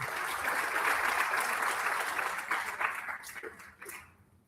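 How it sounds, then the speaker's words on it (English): Audience applause at a national launch event for a waste innovation challenge, a dense steady wash of many hands clapping that thins and fades toward the end. "Another round of applause."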